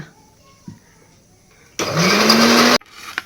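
A kitchen mixer grinder whirs loudly for about a second in a short, steady burst, with quiet room sounds and faint voices before and after.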